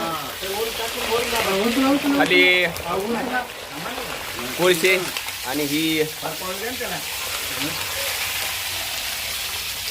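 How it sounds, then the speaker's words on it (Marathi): Green chillies fry in oil in a pan over a wood-fired stove, giving a steady loud sizzle throughout while a person talks over it in the first half. "हे तेलाचा आवाज आणि चुलीवरची मिरची तळताना आपण बघत आहात"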